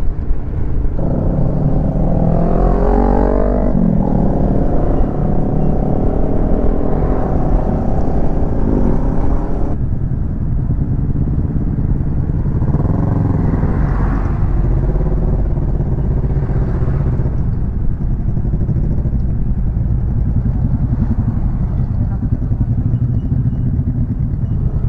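Street traffic during a motorcycle stroll ride: steady engine drone and revving from nearby motorcycles and cars, rising and falling as vehicles pass, with a continuous low road rumble throughout.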